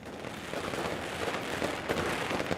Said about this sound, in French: Oh, des pétards!